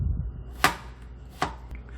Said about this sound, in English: We're going to start by slicing some zucchini